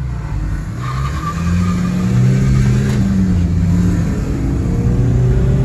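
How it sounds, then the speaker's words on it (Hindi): A diesel Suzuki Swift accelerates hard in a drag race against a petrol Ertiga, its engine note rising steadily and loud with tire and road roar, close and continuous with no talk. "तो भाई देखते हैं, चलो शुरू करते हैं ड्रैग रेस"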